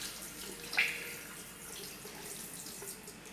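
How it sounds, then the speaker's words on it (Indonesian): Tap water runs steadily into a sink while hands are rinsed during handwashing before an insulin injection, a faint, even splashing with one brief brighter splash near the start. "bilas kembali dengan air mengalir"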